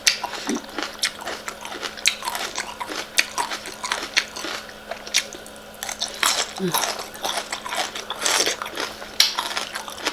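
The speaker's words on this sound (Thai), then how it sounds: "กรอบหวานน่าฟัง" Crisp bites into a fresh Thai-style pounded corn salad with fresh shrimp and salmon, a rapid series of close crunchy snaps and chewing running steadily throughout with a faint steady hum beneath.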